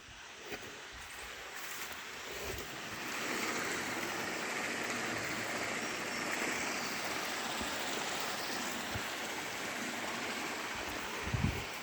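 Steady rushing water pours continuously into a well through a pipe, a broad even splashing roar with no voices, like a stream falling into a pool.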